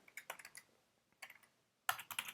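Computer keyboard keys clatter as a command is typed, quick clusters of close clicks separated by short pauses, ending in a louder flurry, with no voices.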